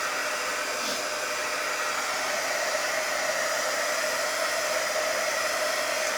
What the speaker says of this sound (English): let me get my heavy duty dryer out